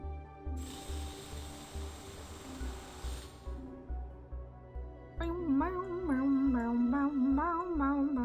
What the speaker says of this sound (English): And we'll drill here.